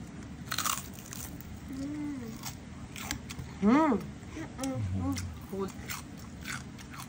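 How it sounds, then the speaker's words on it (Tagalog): Crispy lechon belly skin being bitten and crunched up close, with several sharp crackling bites and chewing, mixed with short vocal exclamations. "Kainin na natin yung balat."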